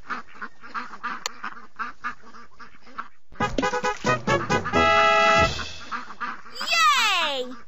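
Cartoon baby ducks quack in a Dora the Explorer game, a run of short bright calls followed by chiming game music and a rising sparkle effect, with a child-like voice speaking over the start.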